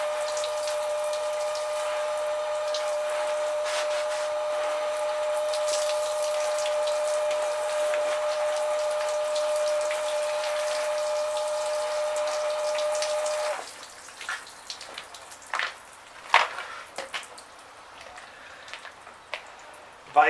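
Steady spray of water hitting a motorbike during a wash, a continuous hiss with a pump-like tone for about thirteen seconds, then scattered drips and splashes as it stops.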